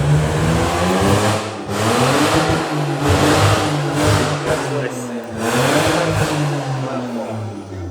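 A barn-find Mazda RX7 FC rotary engine, unused for 10 years, runs loud and close, revving up in repeated surges between rough idling, with a voice speaking briefly over it.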